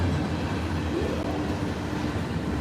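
An Amtrak GE D9-44CW diesel locomotive passes close by, a loud steady rumble and rolling rail noise with a rising engine tone.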